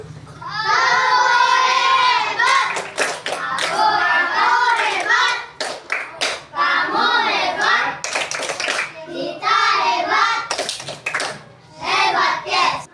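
A class of pupils performs a rhythmic clapping cheer, groups of quick claps punctuating loud chanted and spoken voices that dominate much of the stretch.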